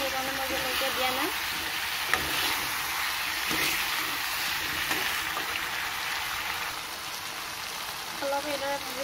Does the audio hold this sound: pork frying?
yes